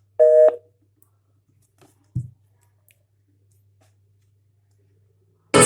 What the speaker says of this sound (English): once you hit the maximum volume, it would make this sound